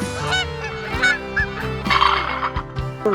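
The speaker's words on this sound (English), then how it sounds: "Goose." A goose honks repeatedly, loud and close, a string of nasal calls with short pauses between them and no voices.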